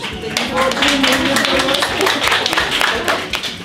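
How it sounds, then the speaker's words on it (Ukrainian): A small group claps for a child about to recite poetry, quick dense claps filling the whole stretch, close and fairly loud, with voices mixed in. "Ну давай, Нікіта, а оплески."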